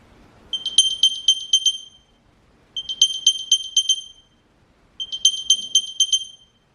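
AirPods 4 play their Find My locating sound: three separate runs of bright, high-pitched chirping beeps with short pauses between them, clear and alone in a quiet room.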